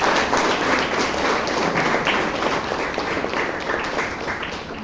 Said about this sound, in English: Can you give a loud round of applause?